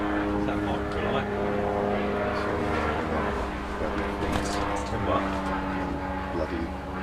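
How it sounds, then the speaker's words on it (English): Microlight aircraft engine droning steadily overhead during an angling match, a continuous buzzing propeller hum at moderate distance that persists throughout while people talk nearby. "Yeah, with an engine. Yeah, they're bloody noisy for the size of them, aren't they? What's that, like a microlight?"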